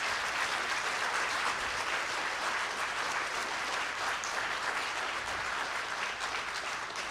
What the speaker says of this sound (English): Can we please give all of our participants, our graduates, and their families and friends a round of applause?